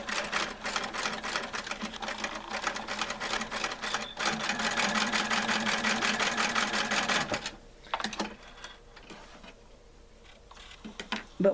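A sewing machine stitches across coiled basket cord, its rapid, rhythmic ticking needle running close and steady for several seconds before it stops and leaves faint handling sounds.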